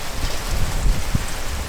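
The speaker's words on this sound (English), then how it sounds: "it is a ton of rain just starting to come through now, and the wind has just picked up tremendously" Heavy rain and strong wind from Hurricane Milton in Orlando, a steady broadband wash of downpour with gusty low rumble throughout, loud and close with no talk.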